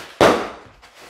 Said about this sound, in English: exploding the plastic bubble wrap